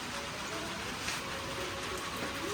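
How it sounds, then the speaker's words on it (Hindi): Rain patters steadily in the background, a soft continuous hiss with faint occasional clinks nearby. "बारिश भी मज़े मज़े की चल रही है"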